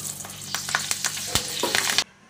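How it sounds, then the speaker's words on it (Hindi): Green chilies dropped into hot oil for radish pickle sizzle sharply, with a few spoon clicks, before the sound cuts off abruptly near the end. "अब तेल में मैं ना थोड़ी सी हरी मिर्ची डाल देती हूँ।"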